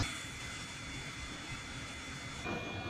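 A small airplane engine runs steadily at a close, constant roar on the ramp before taxi, with a brief shift in tone near the end and no talking.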